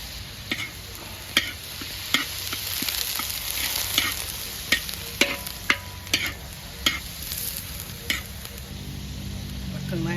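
Pork offal stir-frying in a hot pan for a Shan-style dish with vegetables, a steady loud sizzle broken by repeated sharp clacks of a spatula scraping and tossing, with no talking.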